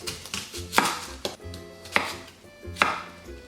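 An onion is chopped on a cutting board, knife strikes landing in an irregular rhythm of about a dozen close, crisp thuds, some louder than others, with no talking.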